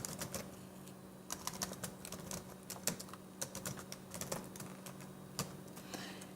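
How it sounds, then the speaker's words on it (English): A computer keyboard is typed on in quick, irregular bursts of close clicks with short pauses between, quiet against a faint steady hum in the background. "Then I can start typing and it'll show up, see?"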